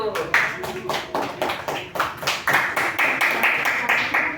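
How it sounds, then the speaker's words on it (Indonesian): Group of students in a classroom clapping together, a fast steady run of hand claps lasting a few seconds at close range, with some voices mixed in. "berikan aplaus untuk kelompok 1"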